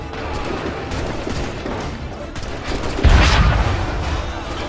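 Soldiers fire muskets in the Assassin's Creed 3 video game, a ragged run of shots and crackling gunfire with one heavy blast near the middle, against steady battle noise.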